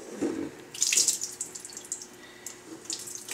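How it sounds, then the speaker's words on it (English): Excess water drips and splashes out of cheesecloth into a full sink while farmer cheese is being made, with a few louder splashy bursts and lighter patters between them, close by and without talk. "So it's just going to drip out of the cheesecloth."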